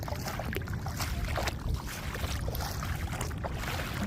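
Steady broadband rush of water and wind around rental boats at sea off Immuki Island, La Union, continuous and fairly loud, with no clear engine tone standing out.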